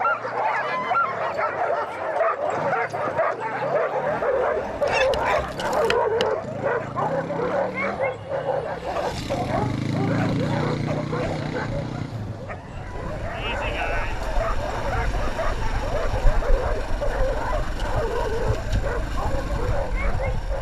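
Excited dogs in Alaska bark, yip and whimper continuously during summer training with a motorcycle, amid a noisy outdoor scene, with some talk mixed in.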